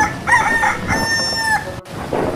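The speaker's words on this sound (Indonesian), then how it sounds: "Jago berusaha berkokok untuk meminta bantuan" A rooster crows loudly and close in a children's fairy-tale story, one long cock-a-doodle-doo call followed by a brief pause and a softer cluck-like sound.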